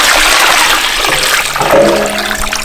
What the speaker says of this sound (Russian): И заливаем это все холодной водой.